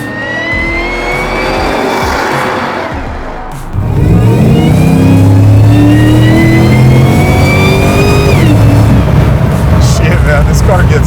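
A 700 hp supercharged LT4 engine in a 1969 Camaro roars as it accelerates hard, pitch climbing through gear changes, loud and close, with voices talking over it.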